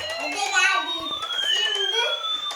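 A toy fire truck siren wails in rising and falling electronic sweeps, loud and close, with someone talking over it.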